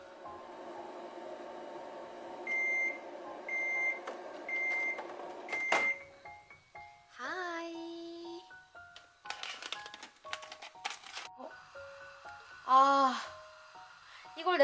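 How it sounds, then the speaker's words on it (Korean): A kitchen microwave oven heating cheese-filled chicken breast balls runs with a steady hum, then several electronic beeps and door clunks sound close by, with intermittent handling noises and a person talking in Korean between them. "이거 그냥 전자레인지 돌리면 돼요."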